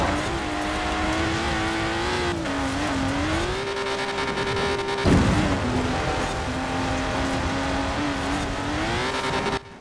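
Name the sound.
sports cars racing in video game Forza Horizon 4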